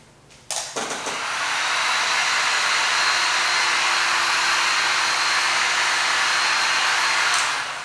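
A heat gun blows on tint film over a car side marker, switching on abruptly with a couple of clicks and then a steady loud whooshing roar.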